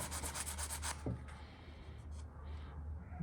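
Hand sanding a diorama surface with 320 grit sandpaper or a sanding sponge, giving quick rhythmic rubbing strokes that fade into softer, slower scrubbing, close and quiet.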